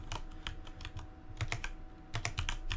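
Quick, uneven clicks of typing on a computer keyboard, close and clear, in a quiet room with no talking.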